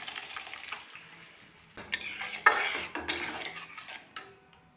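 Lentils go into a pot of cooked-down tomato and oil for khesari dal, bringing a close, brief clatter of metal utensil against the pot with a wet pour and faint sizzle beneath.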